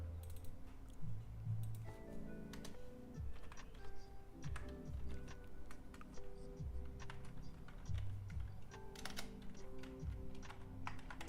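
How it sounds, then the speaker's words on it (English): Computer keyboard typing with scattered mouse clicks during live commodities day trading, a steady close patter of keystrokes running throughout with bursts of sharper clicks, picked up near a desk microphone. "Sorry about the keyboard and mouse noise"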